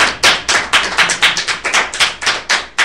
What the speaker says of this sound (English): give Father another hand clap.